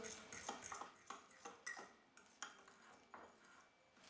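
A fork stirs a bread dough mixture of dissolved yeast water and flour in a bowl. Faint, close, irregular clinks and scrapes of metal on the bowl repeat in quick strokes, with no talking.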